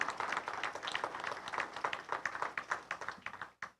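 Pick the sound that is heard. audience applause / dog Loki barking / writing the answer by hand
audience applause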